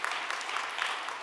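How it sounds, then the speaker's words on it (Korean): At a Sunday youth worship service, the congregation applauds to welcome the newly baptized, a brief wash of dense, even clapping at moderate volume. "우리 박수로"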